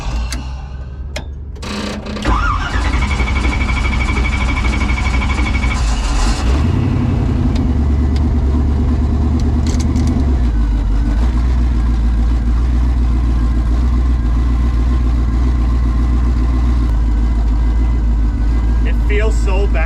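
A drag racing car with damaged U-joints drives slowly back to the pits, its engine droning loud and steady close by, with a brief rev near the start and a constant rumbling hum throughout.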